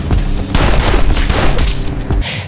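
Several gunshots fired in a film scene, a rapid burst of loud, close blasts that keep going for about two seconds before cutting off.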